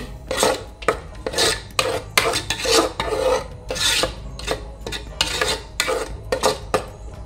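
A spoon rasps and scrapes rhythmically against a pan while ground masala paste is stirred for a Malvani egg curry, repeated close strokes about once a second, no talk.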